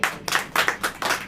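A church congregation claps hands in a short burst of about four or five loud, close claps at a steady rhythm.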